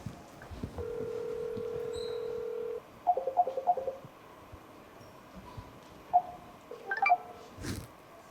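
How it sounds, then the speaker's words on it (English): A mobile phone dials another phone: steady tone, then a run of short keypad beeps and a few later blips, quiet and close, with faint room noise and no speech. "I'm going to call my other phone."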